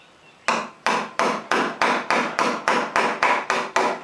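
A 1.5-inch chisel is struck repeatedly while hollowing a wooden stool seat by hand: about eleven sharp, evenly spaced blows, close and loud, each with a short woody ring.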